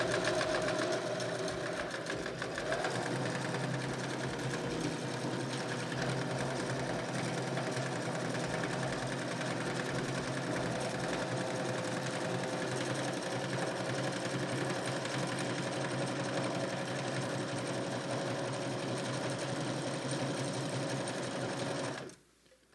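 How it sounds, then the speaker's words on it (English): A sewing machine runs nonstop for about twenty seconds, stitching a fabric face mask with a steady motor whir and rapid needle clatter. It stays close and loud throughout, with no talking, and stops abruptly at the end. "Sewing machine's not a required tool, but I'm not going to deny it's a tool that makes things a whole lot easier"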